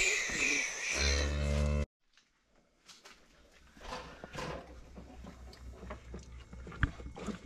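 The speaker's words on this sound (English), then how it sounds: "I'm going to bring the cows back in the barn because I just got done bedding the barn" Cows in a barn let out a loud, close moo lasting nearly two seconds, followed by quieter shuffling, knocks and rustling movement from the animals.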